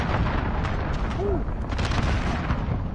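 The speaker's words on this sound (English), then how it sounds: "Enemy cruise missile." A cruise missile blast in Call of Duty Warzone lands as a dense, rumbling roar of explosions and gunfire that fills the whole stretch, with a short whistling whine rising and falling midway.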